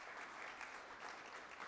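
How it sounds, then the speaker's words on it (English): A town hall audience applauds a panel, a steady wash of clapping that is very faint and distant throughout, with no talk. "let's give a big round of applause for"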